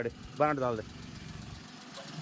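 A 2007 Maruti Alto LXi car engine idles quietly with a low steady hum, while a person speaks briefly over it near the start.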